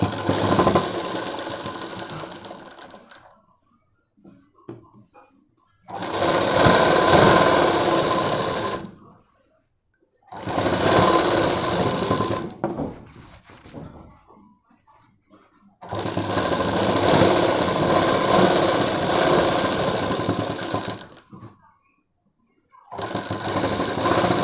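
A sewing machine stitches a Punjabi dress top in loud close bursts of rapid rhythmic clatter, each lasting a few seconds, separated by pauses of near silence.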